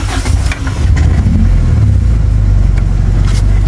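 A Toyota Corolla with a 1K engine cranks and fires, settling at once into a loud, close, steady rumbling idle that runs without a break.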